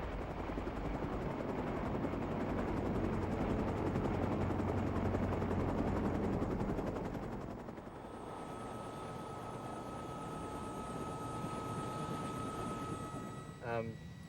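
Helicopters arriving at an earthquake rescue site give a dense, loud rotor and engine roar for about eight seconds, then it drops to a lower, steadier drone with a faint tonal whine.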